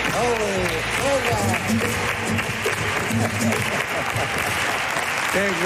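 A studio audience applauds the guitarist Miguel Ángel on a Spanish television variety show, steady dense clapping throughout, with a host's voice and cheers of approval mixed over it.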